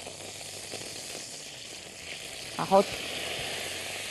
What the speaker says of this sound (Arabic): معلقة الدقيق كبيرة على بواقي السمنة اللي في الطاسة اللي أنا شوحت فيها الكوارع وأحمصه تحميصة بسيطة كده